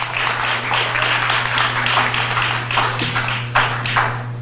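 An audience claps for a district judge at the presentation of a book on public servants' labour law, a loud, steady round of applause with clear clap bursts over a constant low electrical hum.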